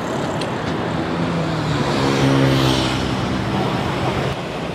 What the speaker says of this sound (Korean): 첫날부터 엄청난 오토바이 소음에 압도되는 듯한 느낌을 받았다